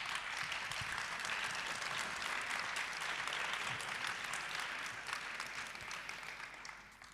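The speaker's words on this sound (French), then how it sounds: "on peut les applaudir" Audience applause greets four guests stepping onto the stage at an architecture talk on contemporary terracotta building, a dense, steady wash of many hands clapping that holds for several seconds and thins slightly toward the end, with no talk over it.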